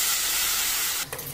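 Tomato puree hitting hot masala in an Aloo Chana curry pan gives a loud, broad steamy sizzle that holds steady, then a short spoon clatter and a softer hiss near the end.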